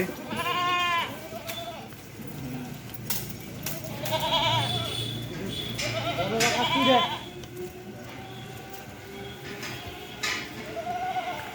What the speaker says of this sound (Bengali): এক গাদা ছাগল